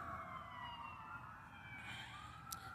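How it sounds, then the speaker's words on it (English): Police and ambulance sirens wailing across a city, distant rising and falling tones blending over a constant low traffic rumble, fairly faint throughout. "the wails of police and ambulance sirens."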